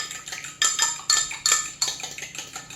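A fork whisks salad dressing in a small dish, producing a rapid rhythmic series of bright metallic clinks against the bowl, about two strokes per second, close and alone.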